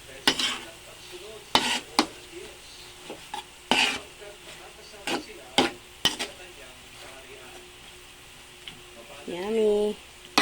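A hotdog sizzling in a frying pan while being stirred and turned, with sharp utensil scrapes and clacks against the pan over a steady low sizzle, close up.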